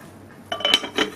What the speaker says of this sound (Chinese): 然后盖上内胆的盖子